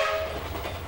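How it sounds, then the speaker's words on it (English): A train whistle in a Where's Wally cartoon sounds in steady tones that fade out, over a low rumbling of rail traffic. "you didn't hear the train whistle blowing"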